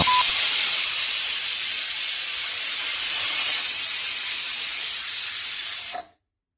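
A pressure cooker whistle releases a loud, steady hiss of steam continuously for about six seconds, then cuts off abruptly into silence.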